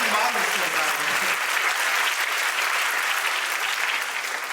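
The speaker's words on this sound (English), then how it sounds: "A round of applause for all the moms here tonight." A comedy show audience claps and cheers continuously, a dense, loud wash of applause that holds steady throughout.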